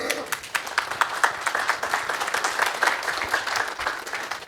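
An audience at a keynote talk breaks into applause as a theater curtain rises, dense overlapping clapping at moderate volume, steady throughout with slight swells.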